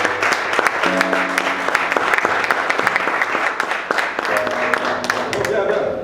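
A church congregation applauds steadily, dense clapping with sharp individual claps standing out, loud and close, while held musical tones and some voices carry underneath.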